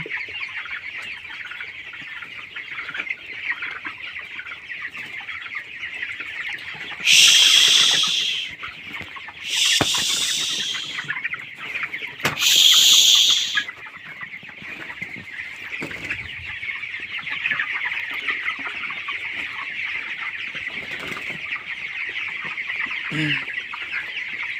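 Broiler chickens, twenty-two days old, cluck steadily in a poultry shed warmed by heat bulbs, a dense constant flock murmur with a few louder bursts of squawking and wing noise standing out.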